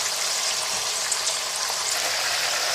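Mutton pieces frying in a hot pan, a steady dense sizzle that stays loud and even throughout with no talking.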